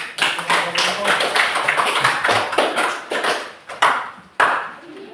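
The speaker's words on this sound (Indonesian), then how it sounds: "tepuk tangan untuk kelompok 4" Clapping from a classroom group for the fourth presenting team, with uneven, scattered hand claps over several seconds and a voice speaking through part of it.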